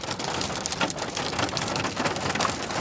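Hail pounding on a car, a dense, loud clatter of hard impacts drumming on the body and roof, continuous with irregular bursts of heavier strikes and no voices.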